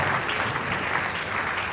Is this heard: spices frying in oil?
no